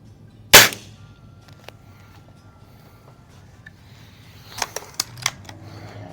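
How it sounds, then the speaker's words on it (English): A Diana spring-piston air rifle fires once with a sharp close crack and a short twang, followed by several lighter mechanical clicks a few seconds later. "Sounds like this gun could use a little bit of spring"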